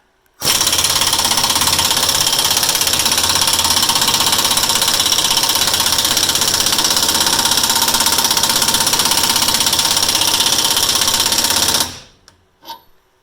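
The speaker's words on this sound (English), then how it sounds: "Impact on low, 22 millimeter socket on this guy, and take a look what it does." An impact wrench on low with a 22 mm socket hammers continuously with a rapid, harsh rattling for about eleven seconds removing a bolt on a 2006 Lexus LX470, then stops, followed by a couple of faint clinks.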